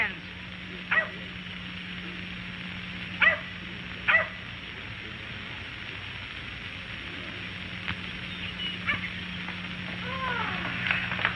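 A dog barks a few times in a 1946 Hollywood film soundtrack: short, sharp yaps spaced a few seconds apart over a steady background hum and faint room noise.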